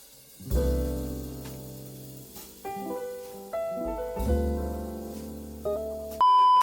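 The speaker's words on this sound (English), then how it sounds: "So timer is out." A timer runs out with a loud, steady electronic beep that cuts in at the very end, following several seconds of sustained musical notes.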